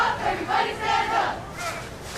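Chanting from the Haybalers JV cheer squad rises in several rhythmic shouted bursts at a high school football game, distant and blended with a constant crowd hum, with no nearby voices.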